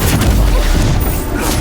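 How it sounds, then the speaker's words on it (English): Incendio fire spell cast in the Hogwarts Legacy video game, a loud dense whooshing burst of flame and rumbling impact that holds steady for well over a second amid continuous combat noise. "Incendio!"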